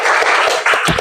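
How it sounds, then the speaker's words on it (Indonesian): A short burst of group applause in a teaching session, moderately loud and steady, with a few sharper claps near the end. "Oke, berikan tepuk tangan"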